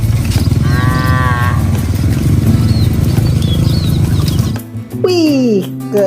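A toy cow gives a loud electronic moo among other animal toy sounds, with a child-oriented voice speaking around it and a short chirpy sound near the end.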